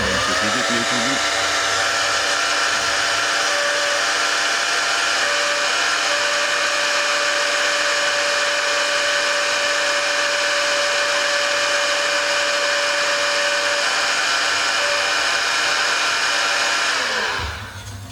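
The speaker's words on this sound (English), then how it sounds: "So for this I had to use the heat gun." Heat gun blowing hot air while warming a part of a Biltema hedge trimmer's recoil starter, a loud, steady whining rush with a constant tone that runs close and unbroken before shutting off at the end.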